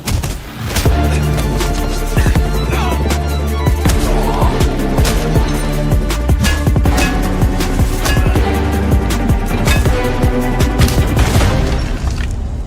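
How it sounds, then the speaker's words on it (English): Gunshots and melee strikes from a John Wick video game trailer, a dense run of loud sharp cracks and punchy thuds repeating in fast irregular bursts over a booming cinematic score, with no talking. "Feel every impactful strike and crisp gunshot in this cinematic world."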